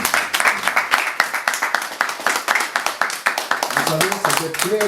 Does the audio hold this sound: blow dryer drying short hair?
no